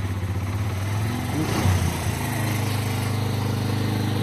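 A Suzuki motorcycle engine, recently fixed after an electrical fault kept it from starting, idling with a steady pulsing putter, briefly revving up in the middle before settling back to idle, close by.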